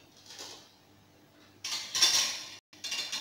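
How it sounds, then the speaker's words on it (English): Sautéed potatoes with onion and coriander served from a pan onto a dish: a few close metallic scrapes and clinks of a utensil against cookware, separated by short pauses, without speech. "Ready now, I'm going to serve it."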